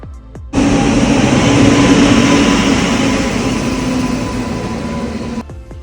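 A train runs at Aluva railway station with a loud, steady rumbling roar close by that starts abruptly and holds for several seconds before cutting off.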